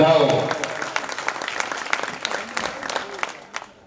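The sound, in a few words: applause at temple ceremony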